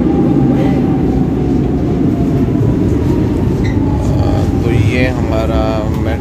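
Lisbon metro train arriving at the College Militar station, a steady loud rumble with rising and falling brake squeal tones near the end, a voice speaking faintly underneath.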